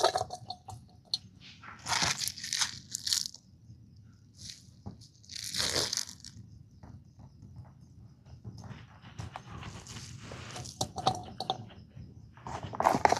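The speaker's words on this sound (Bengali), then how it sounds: "ঠিক এইরকমভাবে জলটা নিংড়ে বের করে নিতে হবে।" Chopped cabbage squeezed by hand to wring out its water gives close, irregular wet crunching and crackling squishes in scattered bursts, with brief pauses between squeezes.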